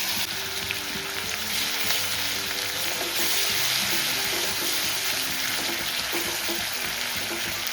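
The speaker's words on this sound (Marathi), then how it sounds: "एकदम मसाला छान टाकून घ्यायचा, थोडा परतून घ्यायचा." Ground green chilli masala sautéing in cow's ghee in a pan, a loud continuous close sizzle and crackle with faint stirring underneath, no voices.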